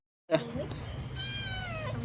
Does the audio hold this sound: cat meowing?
yes